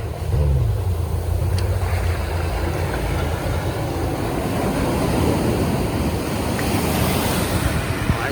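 A boat runs out through a river mouth over breaking surf, its low engine drone audible early on beneath the continuous roar of waves and wind noise on the microphone.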